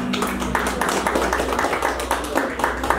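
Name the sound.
audience applause for a band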